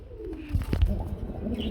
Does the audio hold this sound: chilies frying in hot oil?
no